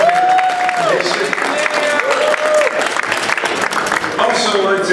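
A crowd gives a round of applause for the mayor, loud and sustained clapping mixed with cheers, with voices calling out and sustained voiced tones over the din.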